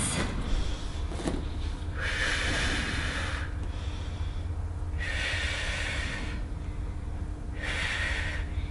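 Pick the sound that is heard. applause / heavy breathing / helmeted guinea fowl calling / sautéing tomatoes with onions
heavy breathing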